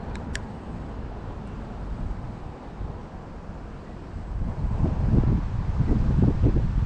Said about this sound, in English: I'm sure you can tell it's very windy today